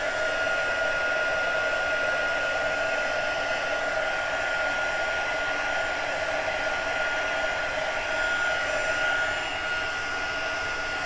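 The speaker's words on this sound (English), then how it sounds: "bring in the heat gun again, my little heat tool" A small heat gun blows steadily while heating embossing powder, a constant close whooshing whine with no breaks, fairly quiet overall.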